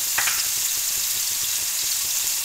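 Small cubes of chicken hit frying onions in a pan, a loud sizzle with a sharp burst at the start settling into steady crackling and faint stirring, no talk.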